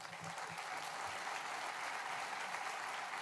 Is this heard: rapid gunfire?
no